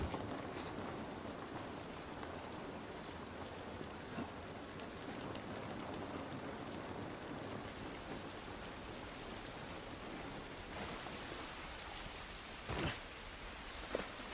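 Steady rain falls outdoors in The Last of Us Part 1, a dense even hiss of drops on surfaces with a few faint clatters and no speech.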